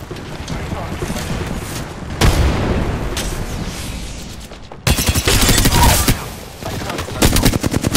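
Rapid automatic gunfire in the video game Apex Legends, with dense bursts of shots and booms, loud and close, intensifying into heavy sustained volleys in the second half, with faint game voice lines underneath.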